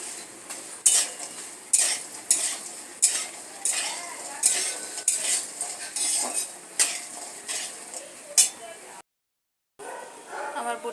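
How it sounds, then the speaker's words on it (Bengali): Bori lentil dumplings fry with black cumin in a pan, a close, rhythmic series of spatula scrapes and clinks over a continuous sizzle, with a brief dropout near the end. "বড়িটা একটু ভেজে নিই, কালো জিরেগুলো বড়ির সাথে উঠে আসবে,"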